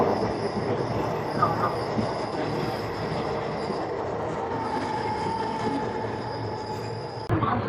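A passenger train rumbles steadily through the Western Ghats after leaving Coimbatore, with continuous wheel noise, faint squeal and rattle heard from on board, loud and unbroken throughout.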